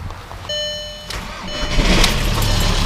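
A car whose battery went flat after the lights were left on cranks and fires up while being jump-started early in the morning, the engine catching and settling into a rough running rumble after a brief chime-like tone.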